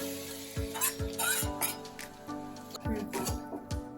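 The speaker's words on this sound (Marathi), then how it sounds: "मी इथे हे तूप टाकलेले दोन चमचे त्यामध्ये आपण हे खोबरं आणि हिरवी मिरची वाटून घेतलेली थोडंसं परतून घ्यायचं" A spoon scrapes and stirs ground coconut and green chili paste in two spoons of hot ghee in a pan. Rhythmic scrapes sound over a soft, steady sizzle while a voice talks throughout.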